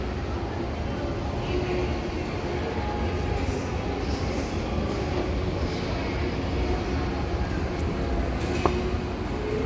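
Low rumbling of a train at a station fills the space with steady mechanical noise, faint clanks and a distant hiss mixed in, and a murmur of voices underneath.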